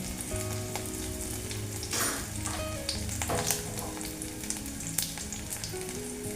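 White and black cumin seeds frying in hot oil for a bele fish curry: a steady, close sizzle with a few sharper crackling bursts. No one speaks, and faint tonal sounds run in the background.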